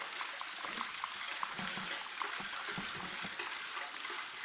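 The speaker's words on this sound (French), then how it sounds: "Avec l'eau qui goutte là-haut" Inside a troglodyte house carved into rock, water drips from the stone ceiling in scattered, irregular drops over a constant hollow ambient hiss, faint and somewhat distant.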